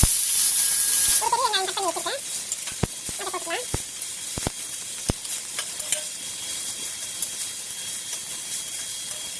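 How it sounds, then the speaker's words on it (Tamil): Mustard seeds frying in hot oil, popping and spluttering as sharp, scattered crackles and sizzle, with a brief voice near the start. "இப்போ பாருங்கள் நல்லா பொரியுது"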